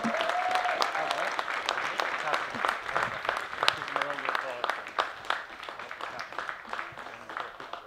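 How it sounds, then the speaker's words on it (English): Spectators at a university men's ice hockey final cheer and clap for the winning team. The applause is lively and uneven, with distinct claps and crowd noise, and voices come through underneath. "We should all give them a round of applause"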